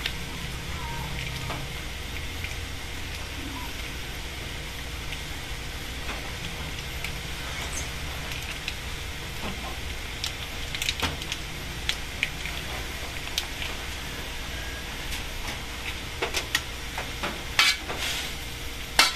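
Bean sprouts and tofu being stirred in a sizzling pan after oyster sauce is added, a steady close frying crackle with irregular scraping and clinking strokes throughout, no voices.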